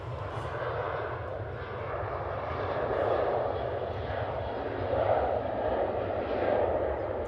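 A TUI airliner lines up on runway 05 left at Manchester Airport, its jet engines producing a steady distant rumbling whine that swells gently and fades, heard from a spotting position with no talk.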